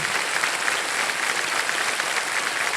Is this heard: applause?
yes